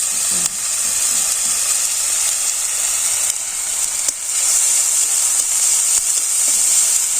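Spices frying in a pan give a steady, close, bright hiss with a constant sizzle, broken by a few faint clicks and brief dips.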